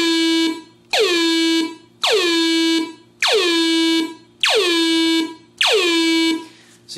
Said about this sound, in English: So we're going to test first the filter envelope modulation